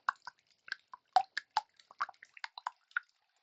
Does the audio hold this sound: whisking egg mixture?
yes